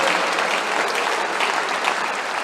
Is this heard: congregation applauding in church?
yes